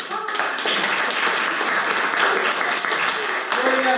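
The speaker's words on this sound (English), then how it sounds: "And give them a round of applause." Audience applause: steady, dense clapping from a crowd, loud and continuous throughout with no talking over it.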